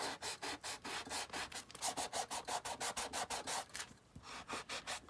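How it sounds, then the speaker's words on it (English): A playing card being sanded for a junk journal, rapid rhythmic rubbing strokes, about a dozen quick scratchy passes with a short pause, close and fairly quiet with no voices. "Getting it sanded down here."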